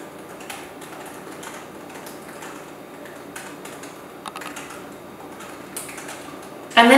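Typing on a computer keyboard while drawing up weekly kindergarten homeschool lesson plans: a steady run of soft, close key clicks at a low level, ending in a sudden louder clatter.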